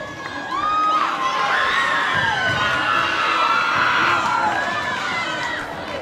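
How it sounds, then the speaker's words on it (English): A high school boys basketball crowd in Falcon Gym roars through a close finish, with shrill cheers, whoops and shouts rising and falling over a continuous loud din of voices. "And this crowd is rocking in Falcon Gym."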